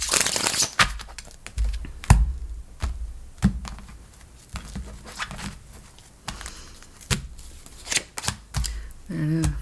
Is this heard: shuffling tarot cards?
yes